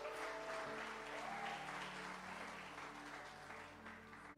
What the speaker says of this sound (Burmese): လက်ခုပ်တီးပေးအောင်